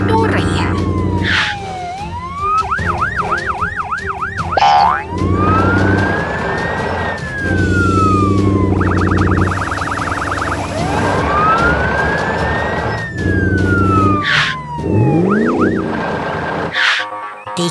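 Wailing police car and ambulance sirens sweep up and down repeatedly in a cartoon rescue scene with a blue police car, white ambulance and red crane truck, loud and close over layered music-like tones.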